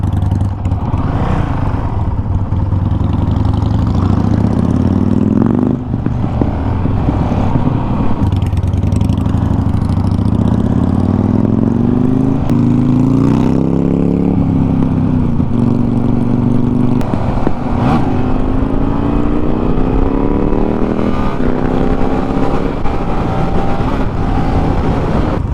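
Several motorcycles cruise together, a Honda CRF 450L riding among Harley-Davidson cruisers, with a steady, loud engine drone and gear shifts rising in pitch across the run, no talk.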